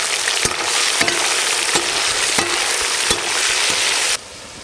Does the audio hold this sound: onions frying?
yes